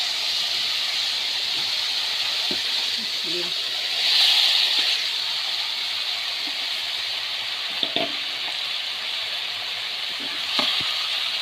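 Lentils tipped into a hot pan of oil and ground spices hiss and sizzle steadily, with a brief surge of spattering, a few soft clinks of a utensil, and no talking.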